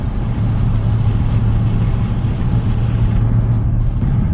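Steady low engine rumble and road noise from inside a car cruising at night, loud and constant with a faint hum and no talking.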